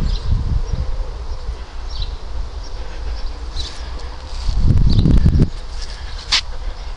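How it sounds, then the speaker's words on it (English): A bee buzzes around iris flowers on a garden allotment, a faint, steady hum beneath outdoor ambience, with brief louder rustling and low thumps near the middle. "there's a bee on the iris"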